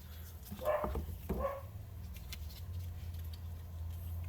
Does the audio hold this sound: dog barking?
yes